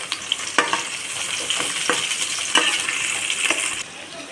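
Thinly sliced onions and green chillies frying in a pan, a steady close sizzle with faint stirring scrapes and light taps scattered throughout, the hiss dropping slightly at the very end.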